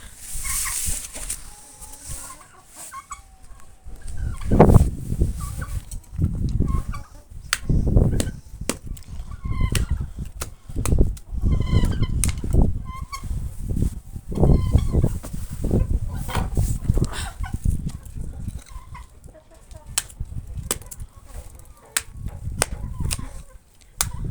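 Chickens and turkeys being fed apples cluck and chatter close by in a busy farmyard, with sharp chopping-like knocks and some background noise.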